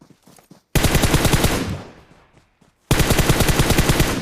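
Bursts of rapid automatic gunfire from bots in a video game, two long loud rattling volleys separated by a short gap, with faint scattered shots before the first.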